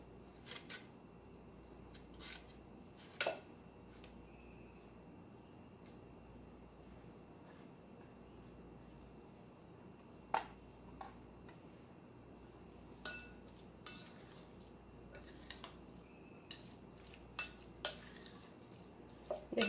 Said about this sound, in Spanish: Voy a rallar este pedacito que queda.